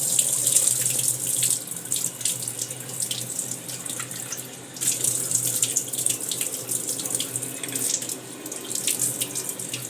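Rice being washed under a running kitchen tap for Bengali-style vegetable pulao, with a steady, continuous stream of water splashing into a sink for the whole stretch, fairly close and with no talking.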